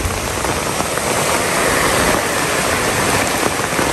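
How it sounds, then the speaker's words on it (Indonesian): Heavy rain pours steadily, a dense, loud hiss of drops drumming on surfaces, continuous throughout with no voices. "Ternyata udan nih. Dan ini cukup deras, teman-teman ya. Deras banget."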